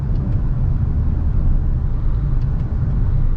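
A 2022 Maruti XL6 facelift hybrid cruises in sixth gear at 90, giving a steady, loud low rumble of engine and road noise that holds level throughout with no talk.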